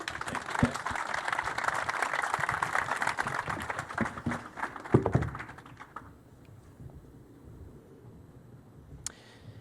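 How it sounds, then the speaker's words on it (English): A press-conference audience for the SuperMotocross World Championship applauds its guests, a dense, steady wash of clapping that fades out about two-thirds of the way through, leaving quiet room tone and a single late tap. "Round of applause for our guests."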